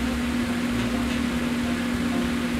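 A microwave oven runs while cooking broccoli in water, giving a steady, even mechanical hum with a constant low drone that stays level throughout, with no talking.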